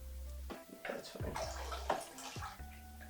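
Liquid poured out of a film developing tank during home film processing, a splashing, gurgling stream running for about three seconds at moderate level, with brief breaks.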